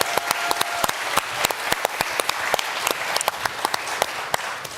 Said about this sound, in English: just give a round of applause to Connie Evans